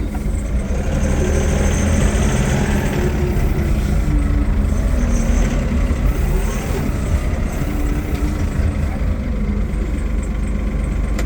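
A Toyota 52-8FDF30 diesel forklift with an automatic transmission drones steadily as it drives forward outdoors, its engine loud and close throughout, with no one talking.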